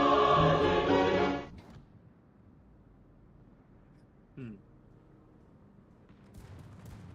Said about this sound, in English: I actually heard the explosion this time.